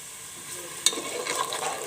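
Matar pulao ingredients frying in a pot, a soft steady sizzle with a brief clink of the stirring spoon partway through, fairly faint.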